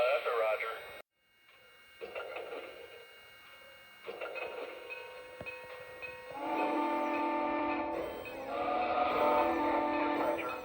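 Lionel Legacy Russian Decapod model steam engine running on a model railway, mechanical chuffing and rail rumble with electronic whistle-like tones that build and grow louder toward the end, with a brief dropout near the start.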